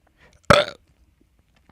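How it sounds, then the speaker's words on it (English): A single short, loud burp bursts out close to the microphone and stops abruptly, with near silence before and after. "I have to burp."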